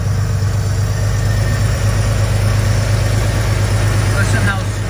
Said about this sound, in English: Listen how sweet this runs. I am literally right now 6 inches from the motor.